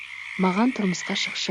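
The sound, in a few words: frogs croaking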